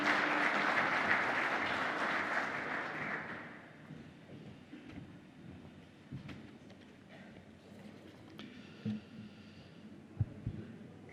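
Audience applause at the official opening of the 17th World Conference of Cities and Ports in Le Havre: a dense burst of clapping fills the first few seconds and then fades. Scattered thumps and murmurs continue afterward.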